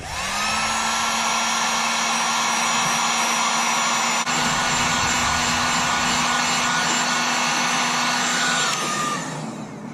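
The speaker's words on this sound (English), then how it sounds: "Now we'll grab our heat gun. Alright, nice new heat gun. See how she works." A new electric heat gun blowing on solder over a van repair, giving a loud, steady whooshing roar with a constant motor whine that runs for about nine seconds before winding down.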